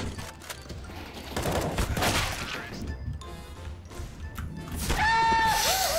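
Gunfire in a Counter-Strike style shooter, Shattered Web case era, with bursts of shots and thuds around the middle of the clip and a bright electronic chime toward the end, with loud game noise throughout.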